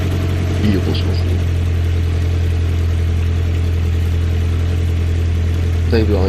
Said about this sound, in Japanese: だいぶアイドリングが安定してきていますね。